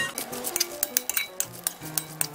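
Seasoning for grilled eggplant is stirred and mixed in a bowl, giving repeated clinking and scraping of utensil against dish in an irregular, close rhythm.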